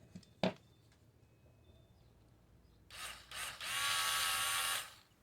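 A Tacklife cordless screwdriver whirs in two short bursts and then a longer steady run as screws are driven back in during reassembly, close and fairly quiet, following a single sharp click near the start.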